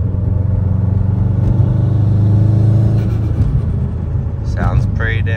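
A 2004 Subaru WRX fitted with a new downpipe, heard from inside the car as a deep, loud engine drone that builds through a short pull, with a brief squeal near the end.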